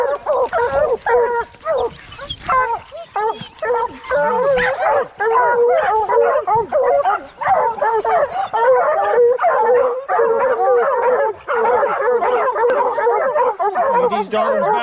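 Pack of hunting hounds barking and howling at a treed bear in the Virginia woods, a dense continuous chorus of overlapping bays and yips at moderate distance with no letup.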